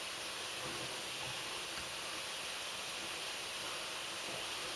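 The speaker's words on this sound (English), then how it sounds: "So I let it come to a boil and then I've turned it down to like simmer mode." A saucepan of water turned down from a boil to a simmer, ready for cooking carp-fishing boilies, gives off a steady, even hiss of bubbling that stays constant throughout, with no voices.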